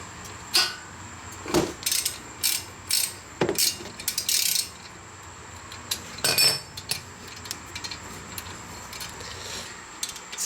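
A ratchet fitted with a 7 mm hex bit loosens the brake caliper slider bolts on a MINI Cooper, giving close, crisp bursts of rapid clicking separated by short pauses.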